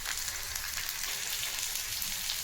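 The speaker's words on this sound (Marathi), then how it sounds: "यातच फ्राय होतील तेलामध्ये।" Garlic cloves fry in hot oil with a continuous close, crackling sizzle that stays steady and dense throughout.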